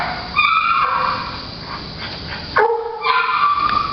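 A Canaan dog vocalizes in short, excited bursts, yips and whimpering barks close by, with a brief pause before a sharper cluster of calls.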